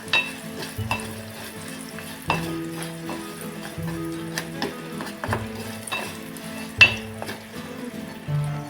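Jaggery being stirred into a raw mango pickle mixture in a hot pan: a steady frying sizzle with repeated scraping stirs and occasional clinks of a spoon against the pan, close and without talk.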